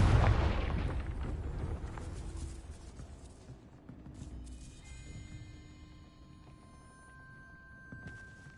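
A Confringo blasting spell goes off in Hogwarts Legacy, a loud explosive burst at the start that rumbles and decays into a lingering low boom, followed by quieter magical shimmering tones.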